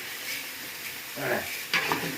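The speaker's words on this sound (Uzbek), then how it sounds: "Mosh soldik, endi yaxshilab qovuramiz." Mung beans frying in a large cauldron give off a continuous sizzle, with a couple of louder scraping stirs near the end and no voices.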